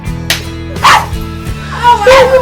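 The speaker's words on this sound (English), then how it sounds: "It's a puppy." A puppy at home with a baby gives several short, loud barks and yips at irregular intervals, close by, with faint voices around.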